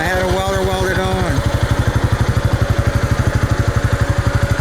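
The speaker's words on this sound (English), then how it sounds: "I put a quiet muffler on it. Real quiet, like super quiet." Honda Rancher ATV engine fitted with a quiet stainless steel muffler, a low, steady thumping idle pulse, close and loud, with a brief higher-pitched mechanical whine at the start.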